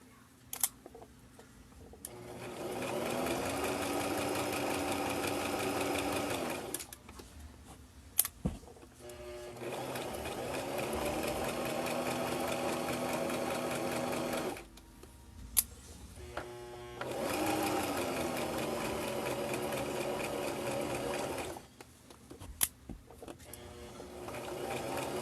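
A sewing machine stitches fabric for a bowl cover in three long runs of steady, even whirring, each stopping and starting with a click and separated by short quiet pauses.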